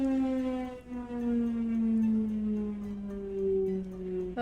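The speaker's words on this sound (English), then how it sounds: "can you hear the siren?" A long, steady wailing siren in a tabletop fantasy game session, loud and sustained, its pitch sliding slowly down and then levelling off, with no voices over it.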